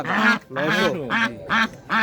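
Ducks at a rural poultry market in Nazirpur quack in five loud, close, nasal bursts with short gaps between them.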